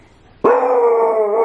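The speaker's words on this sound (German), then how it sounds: "Der hat doch eigentlich nur angefangen zu bellen," A dog gives a sudden loud bark that stretches into a sustained, howling cry lasting about a second, close by and alone, set off by a film playing on TV at home.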